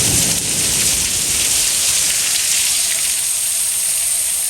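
Rain pouring steadily outdoors at a park, a dense, loud, even hiss of falling water that continues without a break, with no voices.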